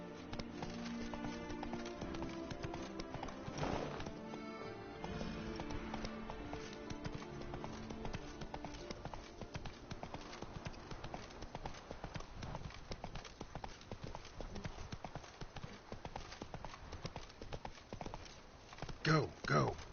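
A horse galloping in The Witcher 3 video game, its hooves beating a fast, steady clip-clop over a busy bed of game music and ambience, with a voice urging the horse on.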